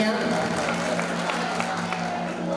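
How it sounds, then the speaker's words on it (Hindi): Audience applause for musicians at a live Khatu Shyam bhajan program, a steady mass of clapping under sustained tonal music, with a voice heard over it. "इनके लिए भी जोरदार तालियां।"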